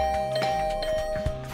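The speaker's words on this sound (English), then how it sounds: "I didn't like the sound of that flurry of doorbell rings." A doorbell in a video game rung in a rapid flurry, a sustained bright chime tone with repeated sharp presses layered over it, close and fairly loud.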